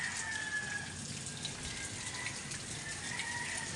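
Continuous rushing of typhoon rainwater pouring into an opened drain, a steady watery gush with no voices.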